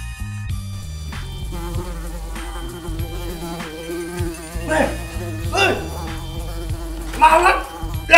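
Flies buzz around a plate of spicy meat close by in short whining bursts, with background music playing steadily underneath.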